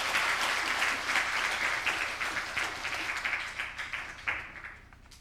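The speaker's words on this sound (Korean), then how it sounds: "우리 크게 하나님께 영광의 박수 한번 드리겠습니다." A church congregation at a Korean Sunday service claps together in sustained, dense applause that slowly fades toward the end.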